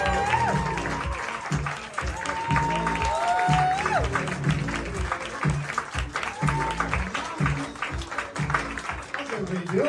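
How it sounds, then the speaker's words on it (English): Applause for comedian Peter Linnaeus at a comedy fundraiser show in Toronto: sustained, loud clapping from the audience fills the room for about ten seconds, with some whistle-like tones and voices mixed in. "please give a very warm round of applause to Peter"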